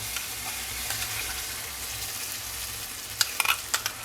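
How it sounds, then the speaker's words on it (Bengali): Garlic and chili paste fries with onions in a pan, a steady close sizzle with a few sharper spattering pops and stirring clicks near the end, no speech. "পেঁয়াজটা আমার ভাজা হয়ে গেছে, এবার এর মধ্যে আমি দিয়ে নিচ্ছি রসুন আর লঙ্কার পেস্ট"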